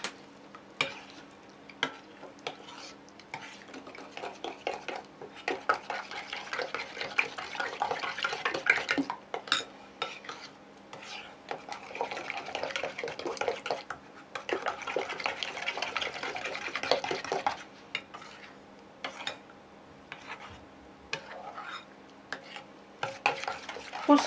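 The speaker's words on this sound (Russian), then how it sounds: "И все перемешаем." A mixture of sour cream, salt and vanilla is stirred in a bowl, giving soft, wet, repeated scraping strokes up close that keep going steadily with brief pauses and no talking.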